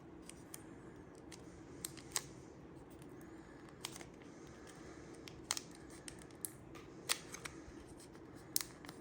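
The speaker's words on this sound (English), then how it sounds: "we have the pencil itself, still wrapped in the plastic, so let's open it up" The plastic wrapping around a new Apple Pencil is pulled open up close, with sparse sharp crinkles and clicks scattered over a quiet, steady background hiss.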